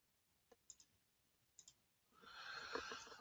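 A computer mouse gives a few soft, sharp clicks, mostly in quick pairs, during 3D design work in Fusion software, followed by a steadier low hiss.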